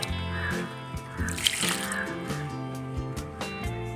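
Diluted homemade liquid fertilizer is poured from a container onto potted garden plants. It makes a steady, close trickling splash throughout, with musical background sounds underneath.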